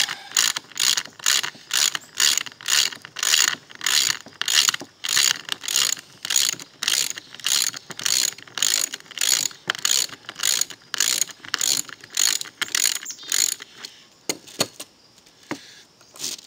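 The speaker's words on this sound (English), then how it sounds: "There, that's nice and tight take out the bolt." A bolt being loosened and taken out during module construction with T-nuts: a steady run of quick ratchet clicks in short repeated bursts, fairly close and moderately loud, then a few looser metallic clinks as it comes free.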